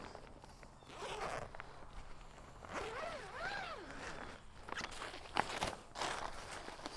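A zipper being opened on an Ozark Trail 12-man cabin tent, with a series of close, rasping pulls in rising and falling sweeps, mixed with fabric rustling and light footsteps.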